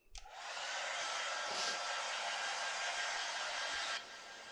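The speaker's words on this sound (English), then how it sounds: "So get the old hairdryer out," Hair dryer running loud and close, a steady broad whooshing roar that starts abruptly, holds for about four seconds, then drops to a quieter hum.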